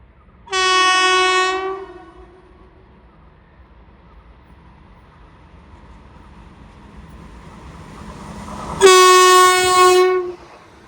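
An express train sounds two loud, sustained horn blasts at Ezhimala, one near the start and another near the end, with the low rumble of the passing train rolling steadily between them.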